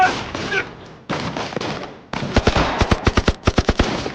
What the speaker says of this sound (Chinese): 爹，要炸了，快走啊！